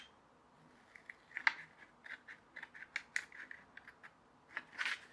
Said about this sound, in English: we've got to cut those out. Scissors.